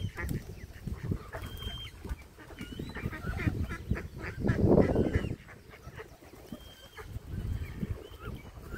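Ducks on a park pond at Parc des Buttes Chaumont in Paris give honking, quacking calls in scattered bursts, one louder flurry in the middle, over faint outdoor background.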